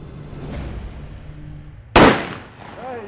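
A single sharp gunshot rings out loud and close on a shooting range, a sudden broadband crack with a quickly decaying tail, preceded by quiet outdoor ambience and followed by faint voices.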